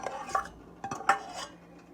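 Butter and seasonings for a Southern gumbo tumble into a metal pot: a few soft clanks and scrapes of utensil against the pot, spaced out over a quiet kitchen background, moderately close.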